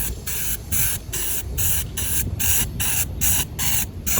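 Spray paint is applied to a sailboat's cabin top in short bursts, about nine close, loud hissing sprays separated by brief pauses, with no talking.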